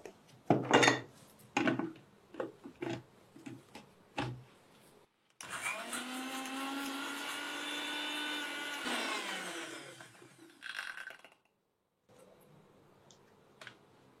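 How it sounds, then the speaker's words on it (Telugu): Mixer blender grinding aloe vera with water into a juice, a loud whirring burst lasting about five seconds, framed by clicks and knocks of the jar and lid before and after. "కలబంద మిక్సీ చేద్దాము"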